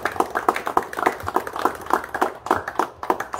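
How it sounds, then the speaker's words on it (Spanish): At a poetry recital in a hostel, a small audience claps in a sparse, rhythmic pattern of distinct individual hand claps, fairly quiet and without chatter. "Un aplauso para los poetas y uno para ustedes también."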